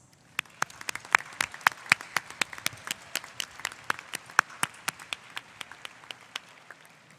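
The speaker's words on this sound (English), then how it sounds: "Please join me in showing our gratitude through applause" Applause at a high school commencement, heard as distinct sharp individual claps in a loose, uneven rhythm, fairly sparse and moderately distant, like a thin scattering of hands in a large space.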